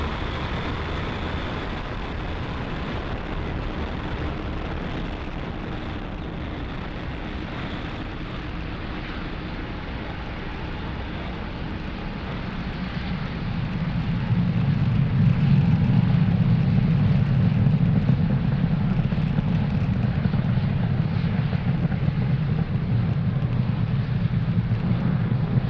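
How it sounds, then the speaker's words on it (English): A SpaceX Falcon 9 rocket lifting off on a Starlink mission: a steady distant rumble that swells into a louder, deep sustained roar partway through, with no speech. "ignition, and liftoff of Falcon 9"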